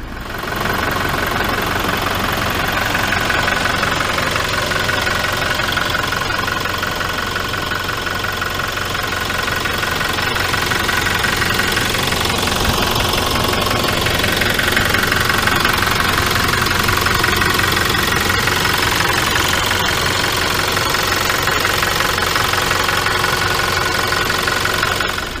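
A 2022 Toyota SW4 SRX diesel engine idling with a truck-like knocking clatter, a steady close rumble that holds evenly for the whole duration with no voices over it.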